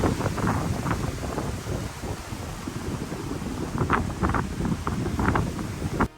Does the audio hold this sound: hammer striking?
no